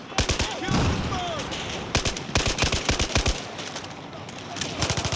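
Rapid machine-gun bursts and sharp gunshots in a Battlefield 4 firefight, loud and close, with blasts mixed in. The firing comes in dense clusters with short gaps.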